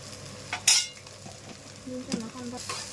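A spoon scraping and clinking in a pan while goat head curry sizzles, with a few sharp metallic knocks over a steady frying hiss.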